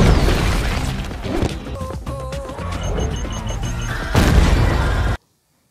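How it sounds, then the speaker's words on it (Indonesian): Explosives set off in an animated Addams Family film send out booming blasts and crashing debris, a dense, loud barrage mixed with music and effects that rises near the end before cutting off. "dia meminta Pugsley untuk menyelamatkan keluarga mereka dengan keahliannya, yaitu peledak"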